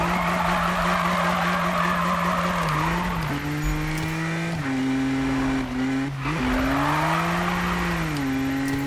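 In the racing game Need for Speed, a BMW M2 drifts at full throttle, its engine droning in stepped pitch shifts as the tires squeal and skid constantly, loud and close throughout, with no voices.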